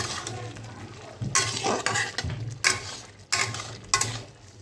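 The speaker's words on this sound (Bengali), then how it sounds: "এবারে ঢাকাটা খুলে আবার দেখে নেব।" A lid lifted off a cooking pot of boiling earth potatoes, a few metallic clanks and scrapes over a low simmering sizzle, close and without speech.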